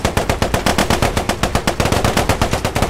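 Machine guns on a Cromwell tank in the World War 2 game Post Scriptum firing full auto, a steady, rapid, loud stream of evenly spaced shots with no pauses.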